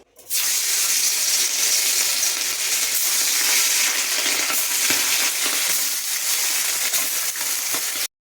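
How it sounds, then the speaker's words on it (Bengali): Parshe fish coated in salt and turmeric sizzle in hot oil, a loud, dense, steady crackle that runs for about eight seconds with scattered pops and then cuts off abruptly. "তেলটা গরম হয়ে গেছে এবার একে একে মাছগুলো দিয়ে দেবো"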